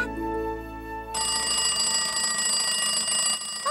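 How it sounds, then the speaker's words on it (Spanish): A fire alarm rings loudly and steadily with a shrill, sustained metallic electronic tone, shifting pitch partway through. "¡Oh! ¡La alarma de incendio!"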